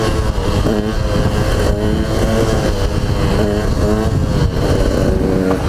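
A motorcycle engine hums and pulses close to the rider during wheelie training, a loud, continuous drone with rhythmic rising and falling revs as the throttle is worked, with no speech over it.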